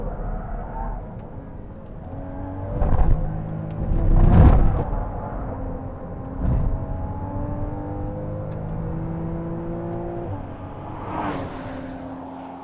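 A car engine rumbles and revs during a race start, rising in a few surges around the opening seconds and again later, fairly close and loud.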